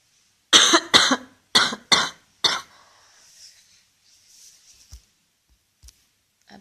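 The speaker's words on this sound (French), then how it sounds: "je vais tousser pas mal parce que je suis un peu malade" A woman who is ill coughs five times in quick harsh bursts, close by, followed by faint rustling and small clicks in a quiet room.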